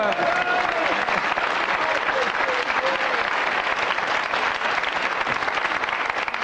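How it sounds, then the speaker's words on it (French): A studio audience at a French radio-television game show applauds steadily, a dense, even wash of clapping filling the whole stretch with a few faint voices underneath. "On applaudit, là"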